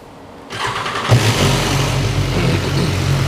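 A 2021 BMW S1000XR motorcycle engine with stock exhaust starts up with a cough, then settles into a steady, even idle rumble close by.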